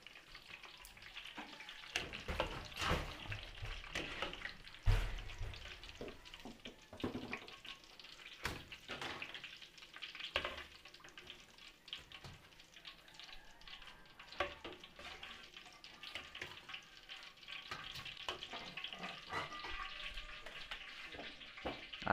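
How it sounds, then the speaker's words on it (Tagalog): Potatoes and carrots fry in hot oil in a home kitchen, giving a continuous loud sizzle with bursts of crackling and occasional stirring clatter throughout. "Prito tayo ng patatas and carrots."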